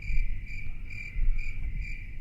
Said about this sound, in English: No, crickets are more at nighttime.